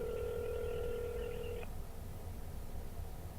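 Telephone call tones: a steady two-tone dial or ringing signal holds for about a second and a half, then cuts off abruptly, leaving a faint hissy line with no voices.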